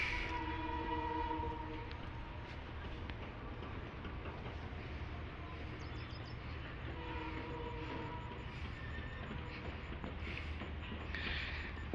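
Palace Queen Humsafar Express passenger train hauled by an EMD WDP4B diesel locomotive, number 40039, running steadily and fairly near, with a continuous low rumble, wheel noise and brief high tonal horn-like notes.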